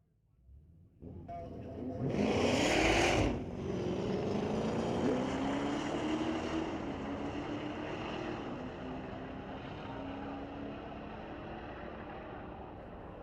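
A 2023 Dodge drag car with a 6.2-liter Hemi launches at a street-legal drag night at Mission Raceway Park. A loud, sharp burst of engine roar is followed by a sustained roar that slowly fades as the car pulls away.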